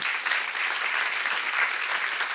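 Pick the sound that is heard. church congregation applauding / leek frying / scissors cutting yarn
church congregation applauding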